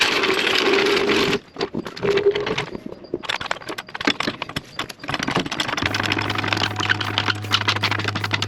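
A Chevrolet C10 long-bed truck with a 540 big block engine running nearby, a loud rough rumble with irregular clatter and a steady low drone settling in toward the end.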